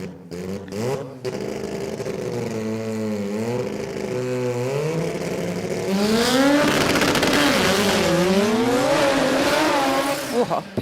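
A drag race car launches hard on its first pass at the 2026 Garrett Sydney Jamboree, its engine roaring loud and close, then climbing in pitch through the gears before backing off near the end.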